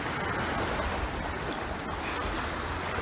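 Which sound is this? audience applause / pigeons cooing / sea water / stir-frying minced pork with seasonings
sea water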